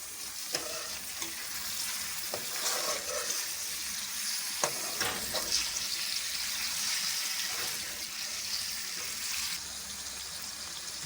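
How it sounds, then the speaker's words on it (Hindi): Chicken fries in a pan with ginger and garlic, giving a steady crackling sizzle, with occasional stirring scrapes over the continuous hiss, close and moderately loud throughout. "अदरक और लहसुन को 1 मिनट भूनने के बाद अब इसमें चिकन डाल लेंगे।"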